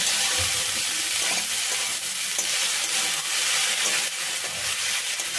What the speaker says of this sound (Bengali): এখন সব কিছু ভালো করে কষিয়ে নেব